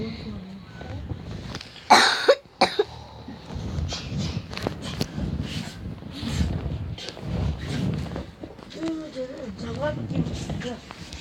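A loud cough from a person with a cold bursts out near the start, followed by a second shorter one, and then the person talks steadily in Korean for the rest.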